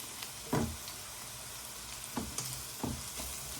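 Green chillies hit hot oil in a pan of onions for Sri Lankan koththu roti, giving a low steady sizzle with three short bursts of scraping or stirring, close and alone without talk.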